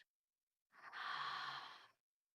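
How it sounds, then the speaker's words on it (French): A single long, soft exhale through the mouth during yoga breathing, a breathy whoosh lasting about a second, close and quiet, heard alone in an otherwise silent room. "Expirez par la bouche."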